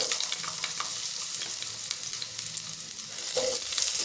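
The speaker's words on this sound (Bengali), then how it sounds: "আলুগুলোকে একটু ভেজে নেব প্রথমে কিছুক্ষণ।" Potatoes frying in mustard oil in a wok, a steady close sizzle with soft crackling and a brief louder spatter near the end, no voices.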